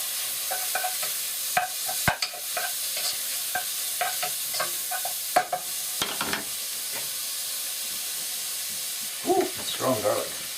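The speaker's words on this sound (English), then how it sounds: "that bacon's cooking out a little bit" Bacon and garlic sizzling in a pan, a constant frying hiss with repeated clacks and scrapes of a wooden spoon, and a brief voice near the end.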